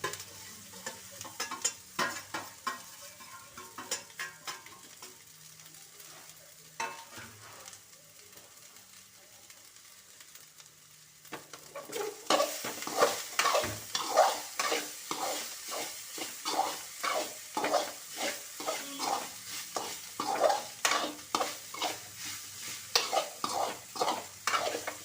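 Rice being stir-fried in a pan for homemade fried rice. A soft sizzle gives way midway to loud, steady, rhythmic scraping and tossing strokes, close up.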